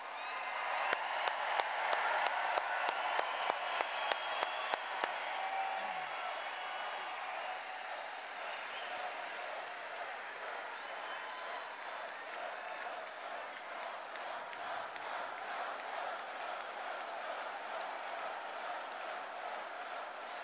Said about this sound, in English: Let's give a big round of applause for your president.